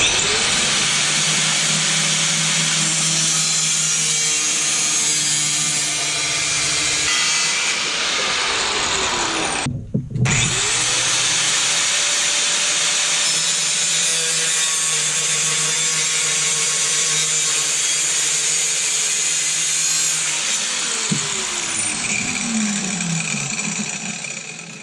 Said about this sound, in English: And now we just cut this out with an angle grinder.